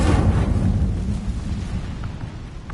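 The Incendio fire spell being cast in Hogwarts Legacy, a loud, close whooshing burst of flame with a heavy low rumble that swells at once and slowly fades.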